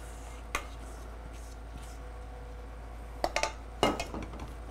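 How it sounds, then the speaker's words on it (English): A spoon clinks against a bowl a few times while melted chocolate and butter are mixed with egg yolks. The taps are soft, sparse and irregular over a quiet kitchen background. "mix your chocolate into your egg yolks or your egg yolks into your chocolate"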